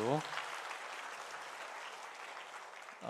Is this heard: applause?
yes